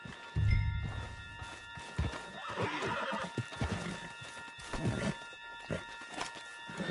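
A horse whinnies in the video game Red Dead Redemption 2 against a busy background of hooves clip-clopping and rustling movement, with occasional thuds.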